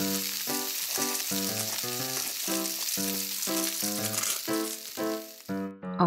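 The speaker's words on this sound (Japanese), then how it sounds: "この中で一つだけをフライパンに乗せて焼いていくよ。" A steady frying sizzle from a toy frying pan cooking a toy egg hisses throughout, layered under a bouncy melodic tune that keeps playing until it cuts off near the end.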